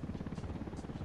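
A helicopter in the video game Ghost Recon Wildlands gives a steady, close, rapid rotor thrum with a fast rhythmic chop throughout.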